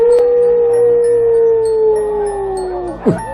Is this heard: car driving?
no